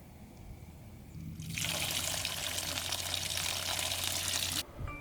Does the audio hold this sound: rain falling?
no